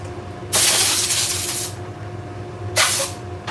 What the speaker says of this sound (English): I'm gonna blow it out with the air compressor.